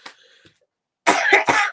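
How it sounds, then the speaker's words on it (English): A person coughs several times in quick succession, loud and close, after a brief faint sound at the start and a short pause. "and then you cough."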